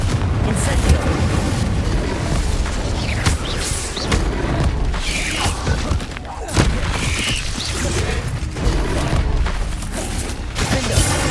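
Confringo and Incendio spell blasts in the Hogwarts Legacy video game, a rapid chaotic series of booming explosions, whooshes and thuds layered over combat noise, loud and near, with no clear speech.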